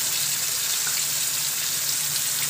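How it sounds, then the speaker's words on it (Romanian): Water poured into a pan of potatoes frying in oil, a steady loud broadband hiss and gush lasting throughout with no pauses, close up. "punem cartofii în ulei și punem pe ea un pic de apă"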